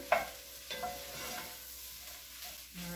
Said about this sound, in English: Stir that around so it kind of mixes somewhat evenly.